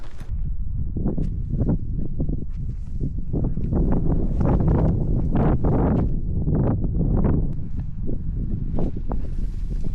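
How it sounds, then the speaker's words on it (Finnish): Strong gusting wind at night buffeting and flapping against tent fabric, rising and falling in irregular bursts at close range, with no voices, in northern Norway. "On ollut aika tommonen tuulinen tämä yö."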